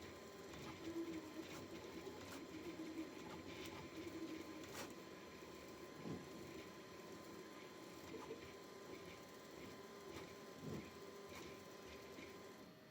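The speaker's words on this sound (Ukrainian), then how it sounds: "Бамбулаб і його швидкість друку." Bambu Lab 3D printer running a print job, a steady mechanical whir with stepper motor tones and faint periodic clicks, continuous and close, no talking.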